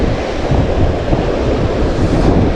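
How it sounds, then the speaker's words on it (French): Strong wind buffeting the microphone on a beach during surfcasting, a loud continuous roar with rumbling low end and surf mixed in, no voices. "il y a du vent"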